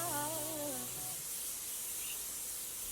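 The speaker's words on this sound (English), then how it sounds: "I'm just going to spray some of the Morphe Continuous Setting Spray on my face" A steady, fine hissing mist of Morphe Continuous Setting Spray sprayed onto a face fills the whole clip, close and continuous, with a brief voice trailing off at the start.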